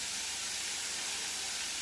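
Lobster sauce frying in a small wok makes a steady, dense hiss of sizzling, constant and fairly loud throughout with no pauses.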